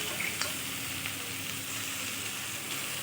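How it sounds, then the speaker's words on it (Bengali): Tomatoes, slit green chilies and chopped dheki greens sizzle and get stirred in a hot pan, a dense close frying hiss with occasional spatter ticks and soft utensil scrapes, no voices. "দিয়ে দিচ্ছি টমেটো আর কাঁচা লঙ্কা চেরা এবার একটু নেড়ে চেড়ে দিয়ে দেব কেটে রাখা শাক"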